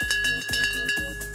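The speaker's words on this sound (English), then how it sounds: "The bell has sounded." A race start bell in The Grand Tour video game rings in three quick, evenly spaced strikes over a sustained metallic tone that carries between them.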